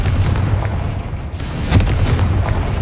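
Confringo blasting spell in Hogwarts Legacy, a loud booming burst that swells midway into a rumbling explosion over steady background noise, with no voices.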